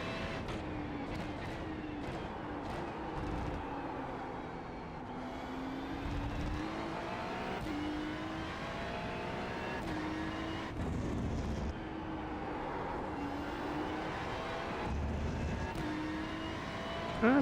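Ferrari GT3 race car engine in a racing video game at Laguna Seca, droning steadily throughout with rising and falling revs through gear changes and corners, loud and continuous with no talk.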